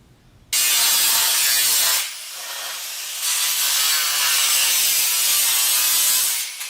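Metal is cut out of a rusty Golf Mk2 wheel arch during welding repair, a loud, harsh, continuous cutting noise that dips briefly partway through before resuming at full strength.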